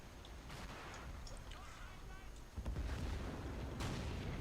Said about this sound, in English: just random explosions, as usual